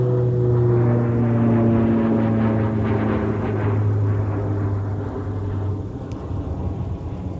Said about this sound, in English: So that aircraft is headed up to War Road. That's a Beach 1900D.